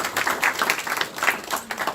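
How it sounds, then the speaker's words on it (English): An audience at a community advisory board meeting claps for veterans in the room, giving a brief burst of dense, close applause with no talk over it. "Give them a round of applause."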